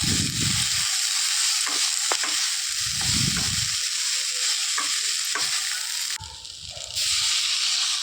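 Onions frying in a hot pan give a steady, close sizzle through the whole stretch. A few stirring scrapes and low rumbling pushes sit on top of it, and no one speaks.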